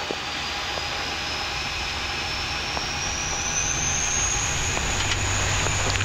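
Engines of an Olympic Air Q-400 turboprop roar steadily during the takeoff roll, a loud continuous drone with a rising whine heard from inside the aircraft, with no talk over it.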